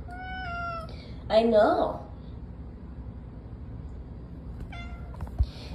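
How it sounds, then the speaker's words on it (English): A house cat meows repeatedly in a college dorm room, close and fairly loud, with a person talking to it in between the calls. "Yeah, you're not a quiet cat. You have a lot of things to say."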